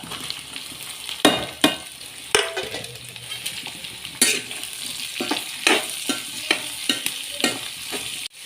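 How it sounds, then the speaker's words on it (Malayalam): Chopped onions, added to ginger and green chillies, sizzle as they fry in a pan and are stirred, with repeated sharp scraping strokes over a steady frying hiss, close and loud. "നമുക്കിത് അതിലേക്ക് 2 ഉള്ളി അരിഞ്ഞത് ചേർത്ത് കൊടുക്കാം."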